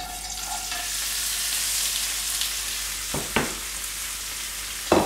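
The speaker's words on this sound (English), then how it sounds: "I'm going to put that cauliflower in the pan" Cauliflower sizzling in a pan of hot oil gives a steady, even frying hiss, with a couple of sharp utensil knocks near the end.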